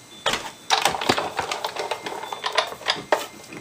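A card fed through a hand-cranked embossing machine with a thick embossing folder gives a close series of rapid mechanical clicks and ratcheting creaks, steady and fairly loud.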